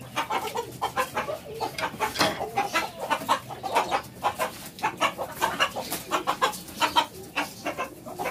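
Desi chickens cluck repeatedly in close, busy bursts, several birds overlapping in an uneven rhythm with no talk.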